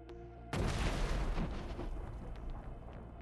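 A sudden heavy blast from explosives thrown onto a Ukrainian bunker position by infantry, a deep booming burst that rolls on as a long rumbling, crackling roar with scattered debris after a short quiet hum.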